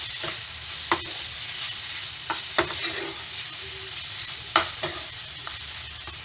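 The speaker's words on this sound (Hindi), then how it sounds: "अब हम इसमें चिकन ऐड करेंगे। इसे मीडियम फ्लेम पे हम कुक करेंगे।" Chicken fries over a medium flame in a pan with softened onions, giving a steady close sizzle broken by a few sharp clinks and scrapes as it is stirred.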